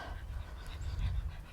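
A puppy pants rapidly and steadily up close, a soft rhythmic breathing with a faint whimper, outdoors in a garden butterfly haven.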